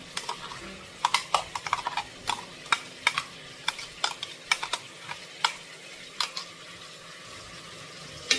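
Repeated scraping clicks of a spoon stirring ground masala in a pan for mushroom biryani, irregular and steady, with a faint sizzle underneath.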